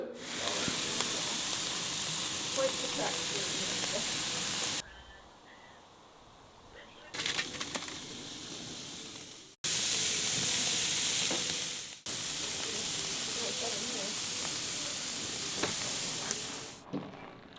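Fries and burgers frying in a cooking setting near 10,000 feet elevation, a steady close sizzle and hiss broken by short cuts and pauses.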